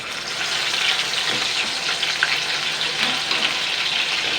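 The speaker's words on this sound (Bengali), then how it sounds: "এবারে আমি নুন হলুদ মাখানো বাটা মাছগুলো আমি দিয়ে দেবো" Bata fish coated in salt and turmeric frying in hot oil, a dense continuous close sizzle with faint crackles throughout, no voices.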